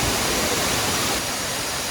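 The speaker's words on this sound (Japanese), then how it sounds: "立派な滝です。" A large waterfall in southern Thailand, a steady, full-bodied roar of falling water that stays constant and loud throughout, with no voices.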